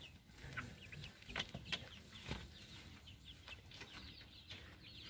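Chickens clucking in a backyard farm coop, a scattered chorus of soft clucks and chirps at moderate distance over a steady background hiss, with occasional wing movement and no talk.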